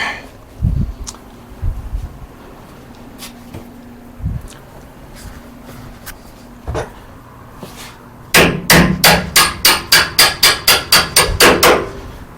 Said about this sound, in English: Let me hammer here.